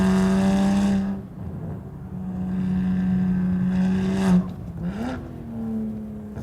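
A tuned BMW 135i with the N54 engine, running around 20 PSI of boost, revs and accelerates through gears up close, its engine note rising, dropping between shifts, then climbing again loudly.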